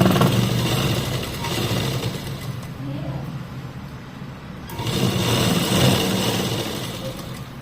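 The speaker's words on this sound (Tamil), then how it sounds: "இப்ப சைடு ஜாயின் பண்ணும்போது ஒரு 1/2 இன்ச் தள்ளி நீங்க ஒரு தையல் போடுங்க." Sewing machine stitching the side seam of a churidar, a steady continuous motor whir running throughout with a slight dip in the middle, fairly loud and close.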